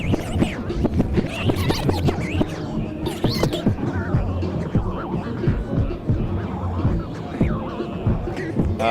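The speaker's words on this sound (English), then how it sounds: "you are manually playing a cassette tape, both backwards and forwards," Cassette tape being scrubbed by hand backwards and forwards through a circuit-bent setup at a synth expo, giving dense, continuous scratchy warbling with pitch swoops and throbbing hum, loud and steady throughout.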